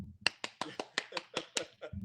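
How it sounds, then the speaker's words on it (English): About ten sharp, evenly spaced hand claps from a single person, close and fairly quiet, in a brisk steady rhythm. "if you're at home, please applaud."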